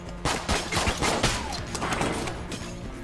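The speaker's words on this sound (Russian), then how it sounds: "Они еще и взрываются, эти твари," Creatures bursting apart in the bullet-hell dungeon game Enter the Gungeon, a dense run of loud, overlapping gunfire-like blasts and crashes repeating over about three seconds, with no talking.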